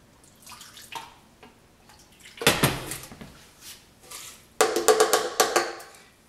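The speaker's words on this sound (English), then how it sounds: "I want to put in a little bit more water." Water poured into a blender container holding cashew nuts, with two bursts of splashing and gurgling, the second louder and broken by short clinks, separated by quieter handling noise.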